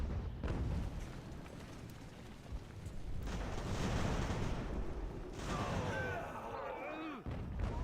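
Mortar and artillery fire rolls through a winter battlefield in Ultimate General: American Revolution, a dense wash of booming blasts and rumble that swells and fades, with a voice talking over it.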